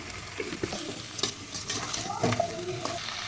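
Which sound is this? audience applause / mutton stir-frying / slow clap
mutton stir-frying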